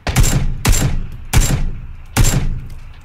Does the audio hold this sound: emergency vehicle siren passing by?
no